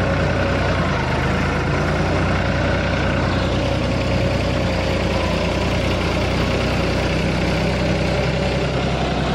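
A New Holland 3600-2 tractor engine drones steadily at close range while pulling a land leveler through soil, a deep continuous rumble with no pauses and no voices.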